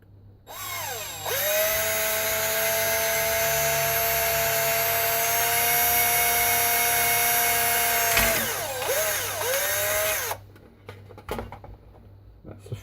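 A handheld power drill boring a 3mm hole spins up and whines steadily for several seconds, its pitch dipping briefly as it bites, then winds down and stops.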